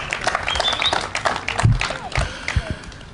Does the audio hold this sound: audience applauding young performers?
yes